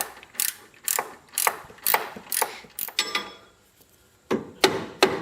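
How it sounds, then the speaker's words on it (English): A ratchet wrench clicks in repeated rhythmic strokes while tightening a replaced strut bolt on a Kubota Sidekick utility vehicle, each pull giving a sharp burst of pawl clicks, close and loud with brief pauses. "And then just tighten it up to the torque that they tell you."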